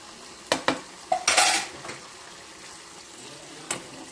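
Brinjal (eggplant) pieces cooking in a pan are stirred with a metal spoon, giving a few sharp clanks and scrapes against the pan over a faint background sizzle, with no talking.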